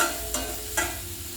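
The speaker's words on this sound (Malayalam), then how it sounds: "ഇതെല്ലാം കൂടെ നന്നായിട്ട് ഇളക്കിയെടുക്കണം" Tapioca (cassava) podimas being stirred in a pan: two distinct scraping strokes of a spoon through the food, close and fairly soft, over a faint steady background, with no talk.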